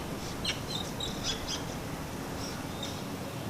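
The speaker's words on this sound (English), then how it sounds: "As always, the babies chirp and wiggle to get their parents' attention." Magpie chicks chirp from their tree at dusk, with faint high calls scattered in short repeated bursts over a steady wash of broadband outdoor noise.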